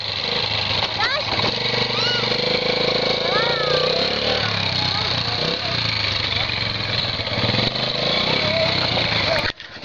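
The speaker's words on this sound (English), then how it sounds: "Ride the four-wheeler!" A four-wheeler ATV engine drones and revs nearby as it rides around a yard, with excited people shouting and talking over the motor throughout.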